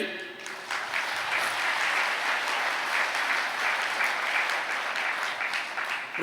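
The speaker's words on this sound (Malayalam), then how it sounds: "ഒന്ന് കൈ ഉയർത്തി കൈയടിച്ച്" An audience at a Catholic retreat clapping with raised hands, a dense, continuous round of applause from many people that stays even and fairly loud throughout.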